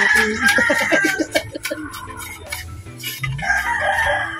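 A pet rooster crows with a close, loud, harmonic call at the start, followed by background clucks and farmyard noise.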